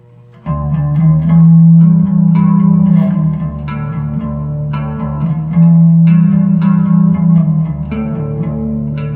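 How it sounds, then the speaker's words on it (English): Bass guitar played through a chorus pedal with a subtly set plate reverb, sustained shimmering low notes that ring out in slow phrases with a smeared, wavering tail, loud and close with no voice. "leaving that reverb setting right where it is with the plate reverb kind of set pretty subtly"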